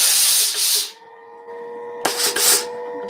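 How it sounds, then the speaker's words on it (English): Steam hisses in two strong bursts while fabric is pressed with a tailor's clapper, broadband and close, with a steady tonal ring lingering between the bursts and no talking. "you give it some steam, hold this down, and this makes it a beautiful, beautiful crease"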